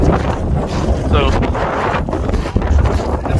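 Heavy wind buffeting the microphone on the deck of a sunset dinner cruise boat off Santorini, a loud continuous roar and rumble with gusty swells, with a voice faintly mixed in.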